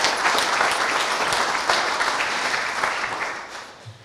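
Applause from the audience at a 2018 Burkett graduation ceremony: a loud, dense crowd of clapping hands that holds steady, then tapers off toward the end.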